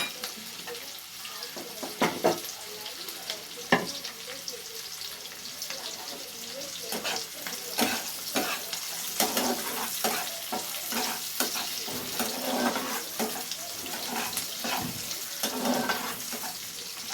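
Chopped onion frying in oil in a pan while being stirred, a steady soft sizzle broken by scraping and clattering stir strokes, close and moderately quiet, with a voice talking at times.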